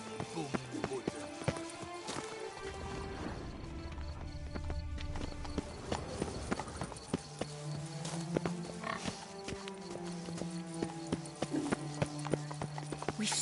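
Roach the horse trots along in The Witcher 3 game, hooves clip-clopping in a steady rhythm beneath frequent talking voices and game sounds, with a brief whinny-like call.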